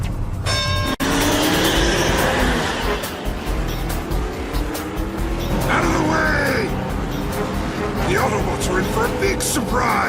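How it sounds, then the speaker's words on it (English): Cartoon race cars speed past in an animated race, engines roaring and whooshing continuously over a busy mix of effects, with voices talking throughout. "the red sports car that just flew by was Skybite"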